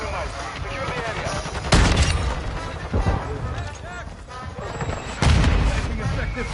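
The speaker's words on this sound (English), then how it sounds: "Our mortar strike incoming." Mortar strike explosions in a video game, three heavy booms spaced a second or two apart amid crackling gunfire and battle noise, with radio-style voices talking over the top.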